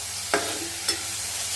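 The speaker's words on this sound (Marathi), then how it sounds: "आता मी टोमॅटो टाकला आहे कढईमध्ये, त्याला पण असं छान मस्तपैकी परतून घेते" Tomatoes sautéing in a kadhai for paneer gravy: a low steady sizzle with two brief stirring scrapes, close and alone.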